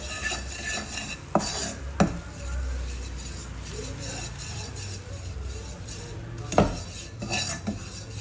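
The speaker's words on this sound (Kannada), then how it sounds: "ಸ್ವಲ್ಪ ಬಟರ್ ಜೊತೆ ಮೈದಾ ರೋಸ್ಟ್ ಮಾಡ್ಕೋಬೇಕು." A spoon stirs and scrapes flour roasting in melted butter in a pan, making a continuous soft scraping sound with sharp metallic clinks against the pan now and then. No one speaks.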